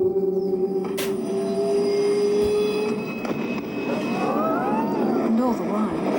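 A passenger train rolls along with steady rumbling and rattling, a drawn-out wheel squeal rising and warbling over the tracks, heard close and continuous as if from inside the carriage.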